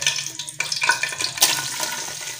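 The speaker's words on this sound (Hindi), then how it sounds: "सबसे पहले हम घी डाल दिए और अभी डालते हैं प्याज।" Onions drop into hot ghee in a pressure cooker on the stove, a brief burst of spattering sizzle and stirring scrapes, close and moderately loud.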